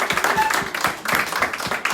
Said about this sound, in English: I would like for all of you to give him a big round of applause.